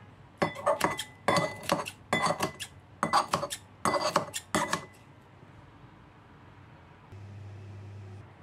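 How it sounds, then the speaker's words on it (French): A knife chops soaked black mushrooms and vermicelli on a board in quick clustered bursts of sharp taps, followed by quiet with a low hum. "Champignons noirs et vermicelles après trempés dans l'eau, on va couper ou hacher en petits morceaux."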